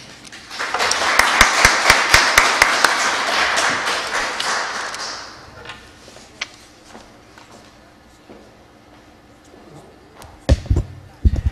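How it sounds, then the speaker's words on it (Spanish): Audience applause for a guest lecturer at an academic science colloquium at CULagos, a dense burst of clapping for about five seconds that fades out, followed by quiet room noise and a few scattered knocks and thumps. "Pido un aplauso para él."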